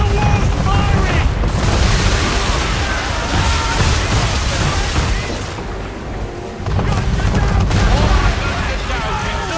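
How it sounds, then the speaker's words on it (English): Heavy booming cannon fire from a man-of-war warship in Assassin's Creed III, loud rolling blasts and rumble that dip briefly midway and then surge again, with shouting voices mixed in. "Man of war's firing!"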